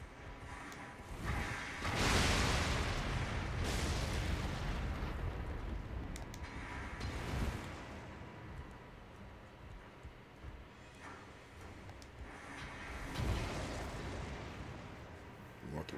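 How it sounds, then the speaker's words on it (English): Elden Ring game: deep booming explosions burst at intervals, one heavy blast followed by several rumbling hits, over a continuous low background of noise. "Explosions ahead."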